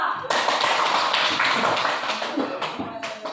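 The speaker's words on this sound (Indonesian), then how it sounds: "Berikan tepuk tangan buat kelompok 2." Classroom clapping for a student group after their presentation, a dense continuous patter of many hands close by that runs steadily for about three seconds, with some voices mixed in.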